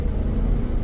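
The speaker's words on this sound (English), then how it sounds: "That's full throttle." A car engine with a no-power fault held at full throttle, a brief, close and loud low roar that stays steady throughout.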